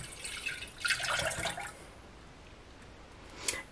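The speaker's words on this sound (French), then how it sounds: "On verse le lait." Milk pours into a saucepan in a home kitchen, a faint liquid splash and trickle in short bursts during the first second and a half, then near silence.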